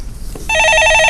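A telephone starts ringing partway through, a loud, close electronic trill that pulses rapidly and continues steadily, with no one speaking over it.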